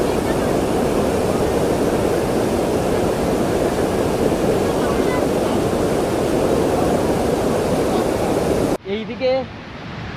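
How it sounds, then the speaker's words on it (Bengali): River water rushes with a strong current at a bathing spot near Sasaram, a loud, steady broadband roar filling nearly the whole clip before cutting off abruptly near the end, where a voice briefly speaks. "কিছু কিছু জায়গায় জলের স্রোতটা বেশি আছে"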